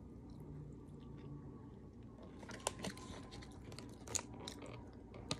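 Close, wet chewing of a crab seafood salad eaten with egg, a soft continuous mash with a few sharper crunchy bites near the end, quiet and alone.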